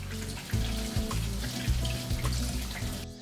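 Water runs steadily from a livestock drinking-water supply in a deer enclosure on a farm, a continuous close flow with a low rumbling undertone and no voices.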